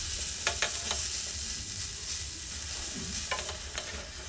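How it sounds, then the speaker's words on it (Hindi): Diced potato and cauliflower fry in a covered pan for aloo gobi, giving a steady, dense sizzle with a few soft stirring clicks and scrapes throughout and no voices. "लिड से कवर अप करके इसको थोड़ी देर के लिए भुनने के लिए छोड़ देंगे।"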